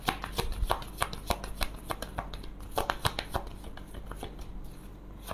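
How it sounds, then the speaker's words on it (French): Oracle cards being shuffled by hand for a 13-card Lenormand reading, a steady run of soft riffling and slapping card sounds, close and fairly quiet, with no talking. "Faire un tirage en 13 cartes."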